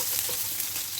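Onions sizzle in hot oil in a pan for an Ilocano pinapaitan, a short, close, steady hiss and crackle with no voices.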